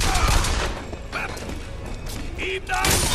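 Bursts of gunfire from the video game Bioshock Infinite crackle through dense, noisy combat sound, heaviest at the start and end, with a voice talking over the action.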